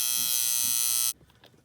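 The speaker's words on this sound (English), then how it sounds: "this buzzer is just a strip of vibrating steel here." Westclox Big Ben Style 7 electric alarm clock buzzer, a vibrating steel strip, gives a loud steady raspy buzz for about a second, then cuts off abruptly into quiet room noise.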